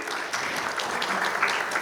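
Audience applause at a corporate panel discussion on omnichannel customer platforms, a steady dense patter of many hands clapping throughout, moderately loud with no voices on top.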